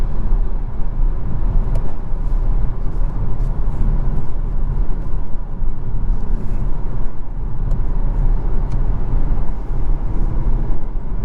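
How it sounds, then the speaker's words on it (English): Steady broadband road and wind rumble fills the cabin of a 2023 Dodge Hornet GT Plus cruising at highway speed, even and continuous throughout with no one talking. "the cabin is pretty quiet at highway speeds"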